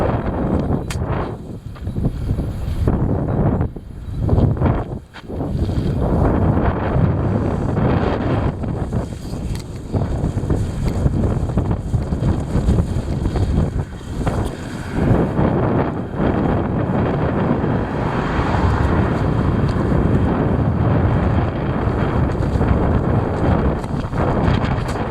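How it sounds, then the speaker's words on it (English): Heavy wind buffeting the microphone in loud, continuous roaring gusts with rough low rumble, sustained for the whole stretch with only a brief dip, no voices. "The heavy wind."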